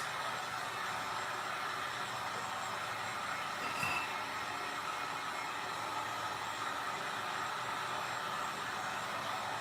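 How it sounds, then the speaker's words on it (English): A heat gun drying a fresh coat of paint, a faint, steady airy whir with an even hiss that runs unbroken throughout, with a brief slight bump partway through. "I'm going to dry this a little bit here with my heat gun"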